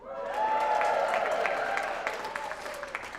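Audience at the Northern Roots Traditional Music Festival bursts into loud cheering and applause, swelling quickly, holding strong, then thinning into scattered claps toward the end.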